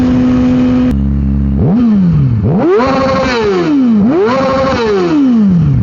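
A loud sport motorcycle engine idles low, then revs hard three times, each rising exhaust wail climbing and easing back down, close and unaccompanied by talk.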